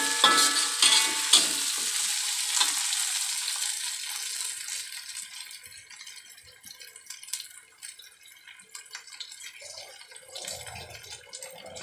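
Chillies sauté in a pan, starting with a bright crackling sizzle and scattered scrapes that gradually fade to a quieter, uneven sputter.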